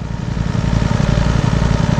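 A motorcycle engine idles loudly up close while it warms up, with a steady, throbbing, even pulse and no talking.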